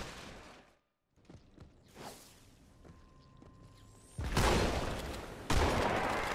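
Shotgun gunfire in the video game Halo 2, with several heavy blasts coming in irregular bursts, loudest toward the end, alongside swishes and clanks of in-game movement.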